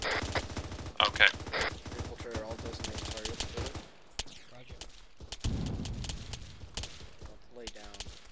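Rapid bursts of gunfire from squad Bravo during an Arma firefight, dense and fast in the first half and sparser, more distant shots later, with voices talking over it.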